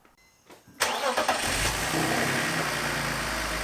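A BMW E46 engine cranks briefly in a garage, catches with a loud burst and settles into a steady, even idle that runs on to the end, with no talking.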